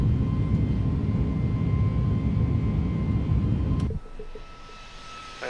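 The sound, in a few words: Airbus A321neo jet engines in thrust climb, flight simulator game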